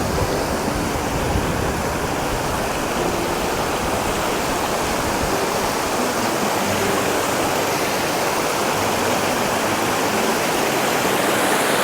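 Snowmelt runoff rushes down a mountain stream in the Picos de Europa, a steady, loud, continuous roar of churning water that stays even throughout with no breaks.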